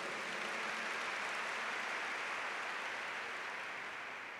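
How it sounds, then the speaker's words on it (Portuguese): Steady, dense applause from a church congregation at a Holy Mass, thanking the music ministry; the clapping is broad and sustained, sounding like rain, and fades slightly at the end. "Uma salva de palmas para o nosso ministério de música"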